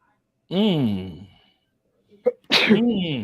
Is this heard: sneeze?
yes